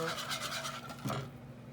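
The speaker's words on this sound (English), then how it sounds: "One little pinch of nutmeg. You'll have fresh, and a nice grating of fresh is even better." Fresh whole nutmeg rasped against a grater for a soup, giving a dry, brief scraping texture in a few quick strokes, close up and fairly quiet in a kitchen.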